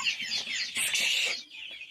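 Poultry-farm chickens giving a brief burst of high, overlapping clucks and chirps, close by and moderately loud, over about two seconds.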